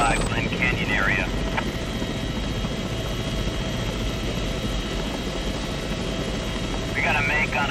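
A helicopter flying, with a steady loud rotor and engine roar throughout while a radio voice talks over it.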